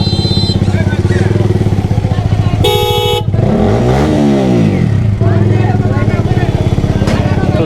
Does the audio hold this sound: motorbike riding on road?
yes